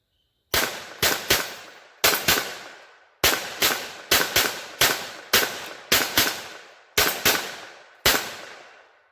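Around fifteen sharp, close pistol shots from a Kel-Tec P17 firing Remington Thunderbolt rounds, spaced in quick irregular bursts, each with a short ringing decay and no talk.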